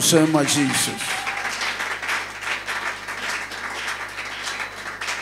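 Applause from a church congregation at a wedding-themed sermon, a steady broadband patter of many hands that follows a brief spoken line and carries on without a break to the end.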